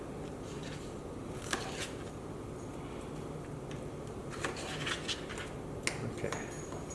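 A knife slices fresh strawberries in half on a cutting board, giving a few faint, scattered clicks and taps at irregular intervals over a quiet room background.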